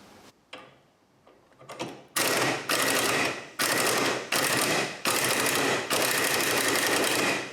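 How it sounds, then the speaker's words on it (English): A pneumatic impact gun hammers on an engine mount bolt of a Toyota MR2 under restoration, firing in several loud, sustained bursts with short pauses between them, after a few quieter clicks and taps at the start. "So now it's time to break out the impact gun."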